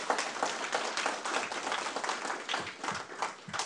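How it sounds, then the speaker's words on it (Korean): An audience at a Jeju forum on the fourth industrial revolution claps steadily throughout, a dense, even wash of applause from a crowd in a hall. "우리 박수 한번 부탁드리겠습니다"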